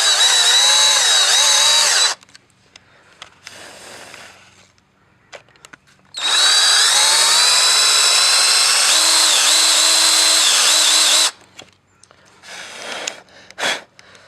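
A power drill boring a starting hole into a Mazda Miata wheel, in two loud sustained runs of whining drilling with short quiet gaps between them.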